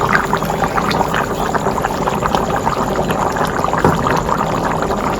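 Chicken dum biryani simmers in a pot with a steady, close bubbling and hiss. The sound holds at an even level throughout, and no one speaks.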